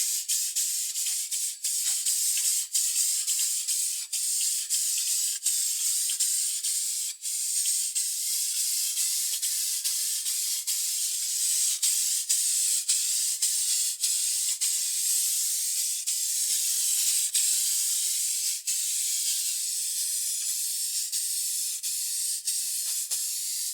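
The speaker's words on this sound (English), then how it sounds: "we're going to give this a little coat of spray lacquer just to give it a little shine." Spray lacquer hisses steadily from a can onto a stained wooden storage trunk, a close, continuous airy spray lasting over twenty seconds with tiny breaks between passes.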